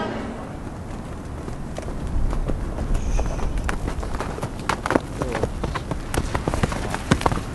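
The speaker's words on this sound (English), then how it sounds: "And then I can walk with the horse." Hooves clop irregularly on hard ground as a horse moves along. The sound is fairly faint under steady outdoor noise and wind.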